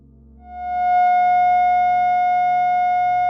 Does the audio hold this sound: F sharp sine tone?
yes